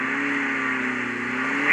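In Call of Duty Mobile, a car engine revs loudly and continuously for under two seconds, a close, sustained mid-pitched roar with a slight rise at the end.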